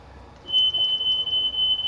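A smoke alarm in a house in a Minecraft game sounds a thin, steady high-pitched beeping tone that starts partway in and continues over a low background rumble.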